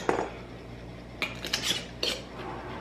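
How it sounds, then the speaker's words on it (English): Close clinks and taps of glass and metal as a lid goes onto a glass jar of infused vodka made with peaches and sugar, with a few short knocks spread across the moment and no talking. "We're going to put the lid on"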